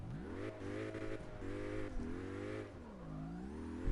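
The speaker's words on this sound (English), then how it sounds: "the car sounds pretty good for an M4." A BMW M4 engine in the drift racing video game CarX Drift Racing revs repeatedly, rising and falling in pitch with throttle blips, moderately loud with no talking.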